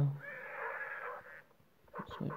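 A horse in the Survivalcraft 2 video game lets out a whinny, a drawn-out wavering call lasting about a second, followed by a few short lower grunts.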